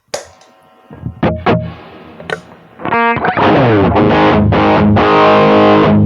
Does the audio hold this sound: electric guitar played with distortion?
yes